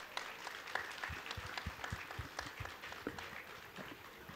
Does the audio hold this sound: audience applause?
yes